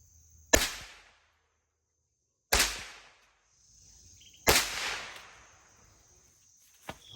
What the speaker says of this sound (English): So I'm gonna shoot this a couple times, make sure it's sighted in